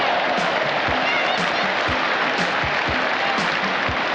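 Crowd applauding at a rugby match as a popular South African Springbok player scores, a broad sustained roar of clapping and cheering from a distant stadium crowd, with faint commentary-like sounds underneath.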